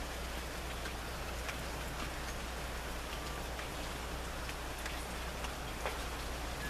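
Steady rain falls throughout, a dense even hiss with scattered nearby drop taps and no voices, unchanging from start to end.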